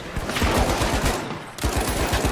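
Rapid automatic gunfire in the video game The Finals, loud and close, with bursts of repeated shots rattling throughout and a brief dip before firing resumes.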